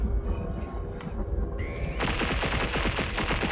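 Enemy gunfire in the video game Planet Alpha: a muffled rumble gives way to a loud, rapid burst of repeated shots that keeps going to the end, with no talk.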